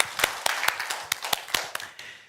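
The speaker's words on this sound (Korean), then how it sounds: "하나님께 영광의 박수 올려드리겠습니다." Scattered claps ring out from a small church congregation, a handful of sharp hand strikes spaced unevenly over a couple of seconds, fairly close.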